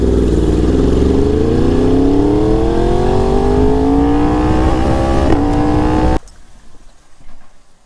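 A BMW X5 on wide tires launches hard, its engine roaring loud and close as the revs climb steadily for about six seconds before cutting off abruptly, leaving faint background noise.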